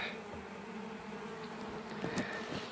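Italian honey bees droning steadily around a hive being set up in May, a close, continuous buzz with a few louder passes of individual bees near the end.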